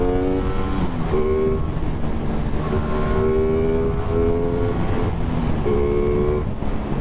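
Aprilia Tuono 660 motorcycle, 70 kW version, revving hard under acceleration with a loud, continuous engine whine that rises in pitch through several gear steps, the front wheel lifting.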